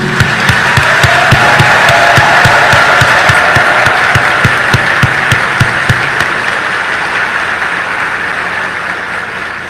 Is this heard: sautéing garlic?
no